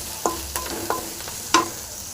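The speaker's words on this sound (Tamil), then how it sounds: "கொத்தமல்லி கருவேப்பிலை சேர்த்துடலாங்க சேர்த்துட்டு நல்லா ஃப்ரை பண்ணிங்க" Coriander and curry leaves fry in a pan, a low sizzle under four distinct scraping stir strokes spaced about a second apart, close and fairly quiet, with no talking.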